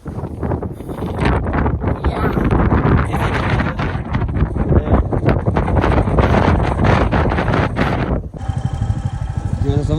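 Strong wind buffets the microphone in the high mountain landscape near Lamayuru on the Srinagar–Leh road in Ladakh, a loud continuous roar with gusty surges for about eight seconds before it drops and settles into a steadier rumble.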